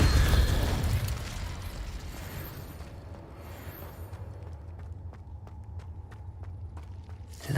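Bombarda spell explosion inside a cave in the Hogwarts Legacy video game: a loud blast opens, then a rumbling decay fades into quieter game ambience, with a series of light clicking or tapping sounds near the end.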